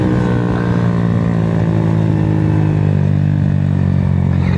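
A 2022 Honda Grom motorcycle being ridden, its small engine droning loudly and steadily at a constant pitch the whole time, close up, with no talking over it.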